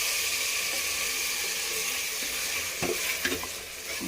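A dal curry mixture is stirred in a pan over soft sizzling, with a few louder scraping strokes of the spoon near the end.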